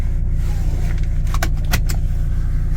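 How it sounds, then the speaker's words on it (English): A 2009 Volvo XC90 D5 diesel with 216,000 km runs with a steady, loud low rumble, and a few brief keys-jangling clinks sound near the middle. "Let's start her up. Immediately jumps to life."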